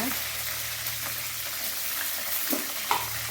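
Garlic and curry leaves sautéing in a pan for Tamil-style brinjal kara kuzhambu, a steady hissing sizzle with occasional stirring clatter, close and fairly constant.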